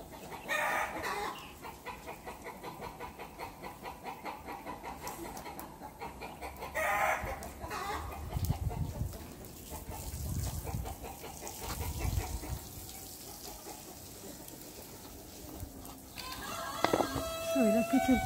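Backyard chickens cluck and crow in a rural kitchen setting while tripe is prepared, with a steady run of clucks through the clip and a brief crow near the end, partly under nearby speech.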